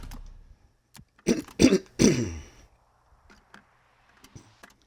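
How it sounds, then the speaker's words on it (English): A man clears his throat in a few quick, harsh bursts close to the microphone, set among quiet moments and faint clicks during a racing game session. "I don't like to keep clearing my throat"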